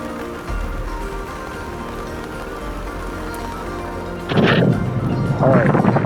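Rain falls steadily during a motorcycle trip, a continuous hiss of drops and spray that swells into louder, rougher bursts of splashing near the end.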